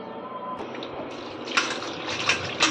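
River fish are rinsed by hand in a pot of water, with continuous splashing and sloshing that swells into louder bursts, and no one speaking.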